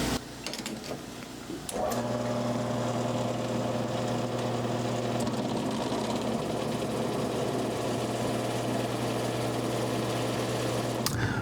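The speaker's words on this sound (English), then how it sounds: "Now, we have to bring our machine back to 0, cut the slug, and then we're good to go." A pro shop machine runs steadily after a brief start, cutting the slug during an oval tapering process, giving a constant mechanical hum with a sewing-machine-like whir that holds at even level to the end.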